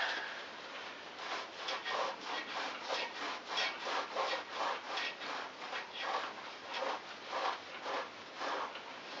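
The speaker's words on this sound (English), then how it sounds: "Slightly scrape on it with the knife." A knife scrapes old, wetted foam off a speaker surround in a quick rhythmic series of rasping strokes, close and fairly quiet, with no talking.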